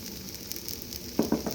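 Rava dosa batter from an instant mix sizzles in oil on a Lodge cast iron griddle, a steady close hiss with a couple of soft knocks near the end.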